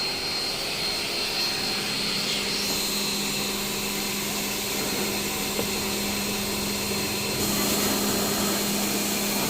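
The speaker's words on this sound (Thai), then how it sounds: "ฉีดล้างความสะอาดแผงแอร์หน้ารถให้นะคะ" A constant high-pressure spray hisses steadily against the AC condenser at the front of a Nissan Almera, with a motor droning beneath it, loud and unbroken, shifting slightly in tone partway through.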